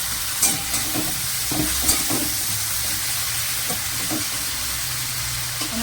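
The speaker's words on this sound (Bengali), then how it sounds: "বেগুনটা এমন করে ভাজবো" Eggplant coated with turmeric and salt fries in hot oil, making a continuous close sizzle broken by soft scraping and stirring bumps. No one speaks.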